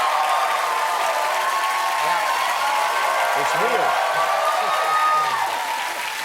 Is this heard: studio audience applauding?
yes